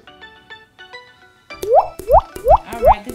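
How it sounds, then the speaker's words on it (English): Drops of coloured water fall one by one into a homemade lava lamp bottle, making four clear, close plops about half a second apart after some quiet tinkling sounds. "Add a couple more drops."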